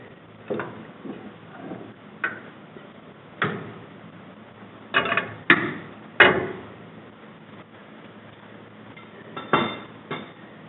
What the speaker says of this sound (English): And now we're going to take the pedals off. Clutch first.